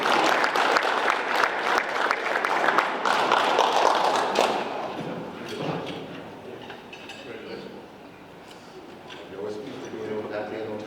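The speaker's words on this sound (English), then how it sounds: "Let's clap it up there from Hardaway." Audience applause at a high school basketball awards ceremony, a sustained loud wash of clapping that gradually thins and fades, with a voice talking over it in the latter half.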